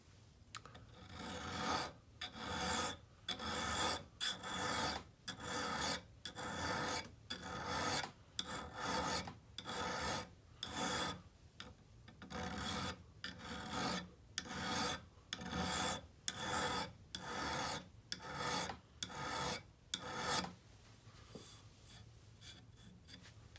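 A hand file rasps along an axe edge in about twenty regular back-and-forth strokes, close and crisp with brief gaps between, before stopping.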